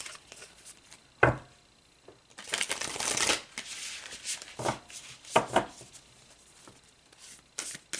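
Tarot cards being shuffled during a soulmate love reading, with a sharp riffle burst followed by a longer stretch of papery shuffling and scattered softer card slaps, fairly quiet and close with no talking.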